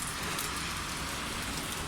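Heavy rain pours down steadily in a broad, unbroken hiss, loud and close, with no voices and no gaps in the downpour.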